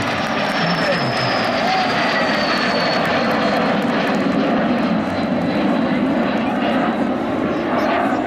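Aircraft engines drone loudly and steadily at an air show in Pontoise as a formation of planes flies overhead, a continuous roar under a commentator's voice.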